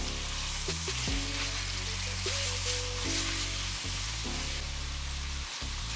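Pork frying in a pan for pancit bihon gives a continuous bright sizzle and crackle, with low humming tones shifting underneath, steady and fairly loud with no talk.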